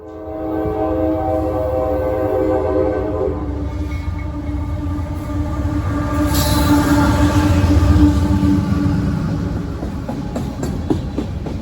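An eastbound empty coal freight train passes close by, its chorded horn sounding loudly over the steady rumble and rattle of the cars, which swells as it nears and continues as wagons clatter past.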